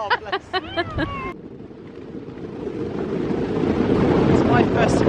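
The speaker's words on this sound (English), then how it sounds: "It feels quite windy." Wind buffets an exposed bridge at Tintagel, Cornwall, a rough roaring rush that builds steadily and grows louder and closer, following a few brief spoken words at the start.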